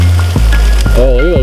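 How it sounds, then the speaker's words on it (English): Hail patters on a trail at Winfield, British Columbia in a dense, steady rush of impacts, with a person talking over it close by. "the hail's getting bigger"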